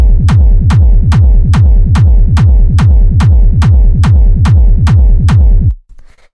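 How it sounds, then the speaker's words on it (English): Hard techno kick drum in a Possession-style hard rave track, a loud, distorted, booming kick repeating steadily about twice per second for nearly six seconds, then cutting off abruptly, with no other instruments. "So as you can hear, pretty hard kick."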